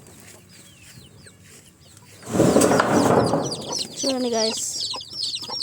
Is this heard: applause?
no